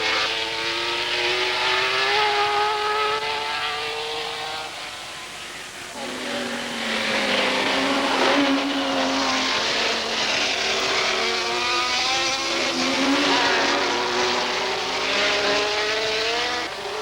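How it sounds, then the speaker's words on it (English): Group 5 racing cars, a Gulf Porsche and a prototype Ferrari, roar around a twisting circuit at a 1970s race, engines rising and falling through the gears as they pass nearby, loud and continuous with no talk. "The big Group 5 cars were proving to be a handful on this twisting circuit, and Rodriguez, in the Gulf Porsche"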